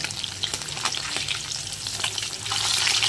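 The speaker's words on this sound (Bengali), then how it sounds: "যেহেতু জ্যান্ত মাছ, এটা বেশি একটা কড়া করে ভাজবো না।" Pieces of live rohu fish fry in hot oil with a loud, continuous crackling sizzle, close up, swelling a little toward the end, with occasional stirring and no voices.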